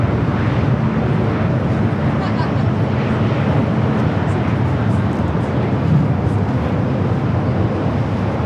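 Steady broadband roar of a jet airliner near LAX, loud and continuous throughout without a clear rise or fade, with faint talk in the background.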